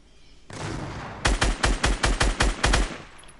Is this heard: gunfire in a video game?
yes